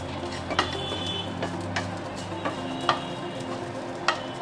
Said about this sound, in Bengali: প্রথমে আমি শুটকিগুলো একটু ভেজে নিব।